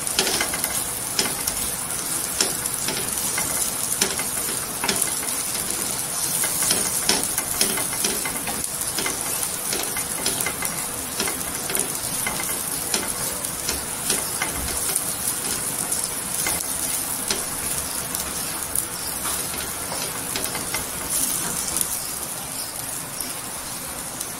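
Brinjal sautés in hot oil for thecha, a steady, close sizzle and hiss lasting throughout, with light stirring clicks scattered across it and no talk.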